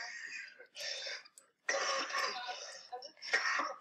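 A few short, harsh cough bursts, fairly close, with brief pauses between them and a somewhat muffled, phone-like quality.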